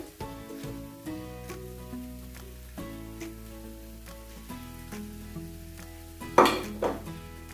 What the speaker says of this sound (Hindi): और फिर हम इसमें डाल देंगे चिकन